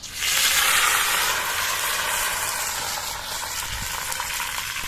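Vadagam and mustard seeds hit hot oil for tempering a kuzhambu of green cowpeas, and a loud, dense sizzle rises at once and holds steady throughout.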